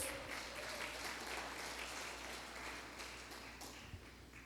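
Church congregation applauding during a sermon, a steady wash of many hands clapping throughout, moderately distant and even, with a faint low hum underneath and no one speaking.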